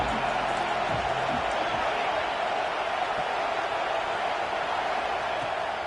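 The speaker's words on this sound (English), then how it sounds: "Decibels rising as the crowd gets behind this defense on third down." Stadium crowd cheering at a college football game as the defense faces third down, a continuous broad roar of many voices, loud and sustained throughout with faint thuds early on.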